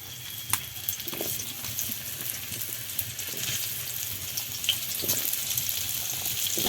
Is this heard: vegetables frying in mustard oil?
yes